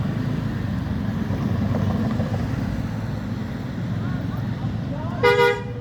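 A Hino bus sounds its horn at a bus terminal, a short musical toot near the end over steady engine rumble and wind noise.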